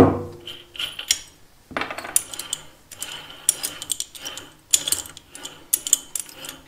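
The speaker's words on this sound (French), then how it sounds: "Tu desserres cet écrou là, s'il veut bien se desserrer." Nut loosened on the jaw of a rock crusher, a run of metallic ratcheting clicks and scrapes in uneven bursts, close by and alone.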